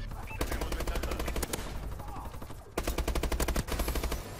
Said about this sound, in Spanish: What, yo disparando, ¿quién me está disparando?